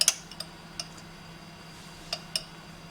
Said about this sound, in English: I'm gonna stir it together